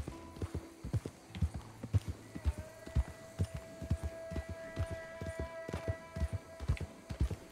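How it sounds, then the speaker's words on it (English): Horse hooves clip-clop in Red Dead Redemption 2, a steady run of close, loud, evenly spaced footfalls throughout, with a faint hum underneath. "Horses."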